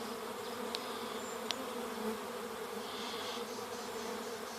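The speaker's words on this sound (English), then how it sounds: "you can see the swarm is building bigger up here." A honeybee swarm hums in a tree outdoors, a steady dense buzz that holds the whole time, with a few individual bees flying close past.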